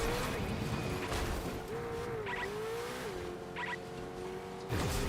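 Car engine in Fortnite drones steadily with shifting pitch, joined by brief tire-squeal chirps midway and a louder burst near the end, no talking.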